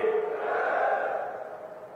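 A large crowd at an outdoor political rally in Mahendragarh, India roars a loud chanted reply to a slogan, one sustained mass shout that swells and then gradually fades with a slight echo.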